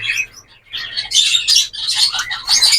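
A sick pet bird chirps and squawks while it is being given medicine, with close, loud bursts of high, scratchy calls that come in quick clusters after a brief pause at the start.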